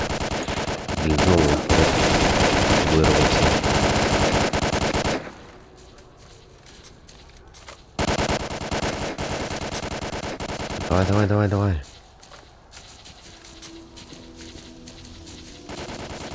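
Automatic gunfire in the shooter game Stalker: Call of Pripyat: loud, dense machine-gun bursts for several seconds, a lull, then another sustained burst, with someone shouting urgently over the shooting.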